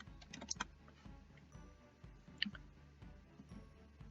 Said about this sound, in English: I'm going to type in pacifier.